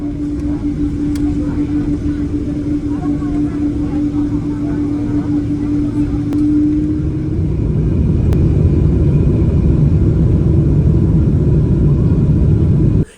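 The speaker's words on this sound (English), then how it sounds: "clear for takeoff" A United heavy jet airliner rolls for takeoff on runway 17 left, its engines a loud, steady roar heard from inside the cabin, with a whining tone that fades as the rumble builds and deepens.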